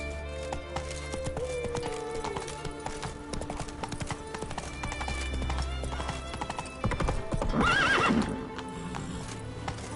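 In The Witcher 3 video game, a horse gallops with rapid, rhythmic hoofbeats, and a loud neigh and whinny rise near the end.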